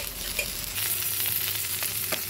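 Vegetarian pumpkin and long bean bhaji fries in a pan, a continuous close sizzle broken by scraping stir strokes, with no voices.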